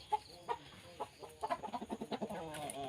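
Chickens cluck softly nearby in short bursts, picking up into a quicker run of clucks toward the end, with faint rustling in the background.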